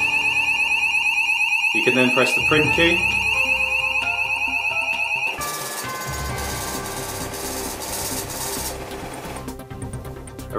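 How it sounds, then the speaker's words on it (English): A Cardinal 210 scale's filling alarm gives a steady electronic tone at the target weight, loud and continuous, followed by a shift to a different buzzing tone; someone speaks briefly over it. "until at target you have a constant alarm."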